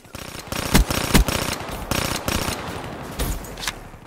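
Burst-fire SMG shots in Black Ops 3, rapid clusters of sharp cracks repeating in short bursts, loud and close, with no talking over them.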